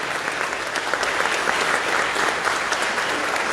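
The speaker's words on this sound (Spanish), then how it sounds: "Vamos a darle un fortísimo aplauso a Jesucristo nuestro Señor" A congregation at a Spanish-language Catholic church service gives loud, sustained applause, a thick, even roar of many hands clapping together.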